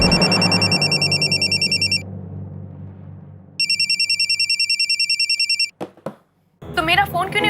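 A telephone rings unanswered in a Hindi crime drama scene, two long bursts of rapid electronic bell trilling separated by a pause, loud and close, followed by a brief voice at the end.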